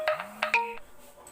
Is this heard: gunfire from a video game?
no